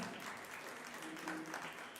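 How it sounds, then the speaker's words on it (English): Audience at a primary school speech contest applauding Madam Najah, a steady wash of clapping from a moderately distant crowd, fairly quiet and continuous without any speech on top. "We'd like to give Madam Najah a big round of applause"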